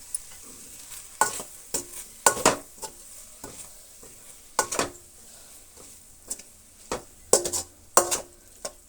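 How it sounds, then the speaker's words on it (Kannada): Rice with garam masala, chili powder and turmeric stirred in a hot pan, a soft sizzle broken by sharp, irregular scraping clinks of a spoon against the pan. "ಒಂದು 1/4 ನಿಮಿಷದಷ್ಟು ಕಾಲ ಈ ರೀತಿ ಫ್ರೈ ಮಾಡ್ಕೊಳ್ಳೋಣ"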